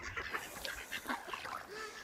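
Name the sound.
duck quacking by a river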